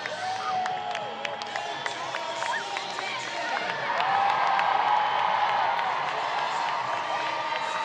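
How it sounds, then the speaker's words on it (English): Stadium crowd at a Savannah Bananas versus Party Animals baseball game in Fresno, California, cheering and clapping with a steady roar that swells midway. Scattered shouts and whoops rise above it, with voices talking throughout. "how about the raucous applause for the school teachers at the end of the laundry list of superheroes we have in the community?"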